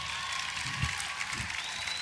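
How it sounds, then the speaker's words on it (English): Applause from an audience honoring the 2018 NCAA champion women's golf team, a steady wash of clapping held at a moderate level throughout without any talk. "give a huge round of applause yes. to our 2018 NCAA champions, women's golf"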